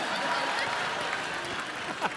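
A studio audience at The Kapil Sharma Show applauds, a dense, steady wash of clapping that lasts the whole clip.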